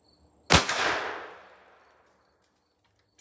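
A single close .38 Special revolver shot, a Rossi firing a 125-grain Remington Golden Saber round, cracks sharply and then rings out in a reverberant tail lasting about a second and a half before silence.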